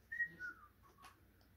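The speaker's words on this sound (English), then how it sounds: "Stop whistling!" A short tune whistled by a person, a few sliding notes rising and falling, followed by a brief higher chirp, fairly close and clear.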